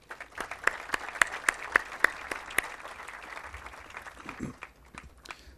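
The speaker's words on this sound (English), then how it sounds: "I ask you to applaud these important contributors and their representatives" Audience applause at an anniversary celebration and school inauguration ceremony, a steady wash of clapping with sharp individual claps standing out early, fading and thinning toward the end.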